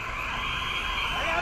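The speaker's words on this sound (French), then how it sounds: "Des dizaines et des dizaines de bagnoles qui passent sans payer." Dozens of cars roll through a motorway toll plaza at Saint-Arnoult, a steady wash of engine and tyre noise under a crowd's raised voices.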